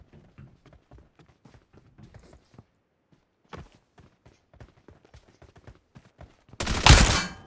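Gunfire sprays in a battle royale shooter game as a rapid string of sharp, dry shots, sparse bursts with brief pauses, closing in a loud, harsh blast near the end.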